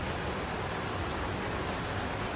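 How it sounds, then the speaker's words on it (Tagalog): Steady rain on a balcony, a dense, even hiss of falling drops that stays constant and close throughout, with no voices. "So, today is a raining day."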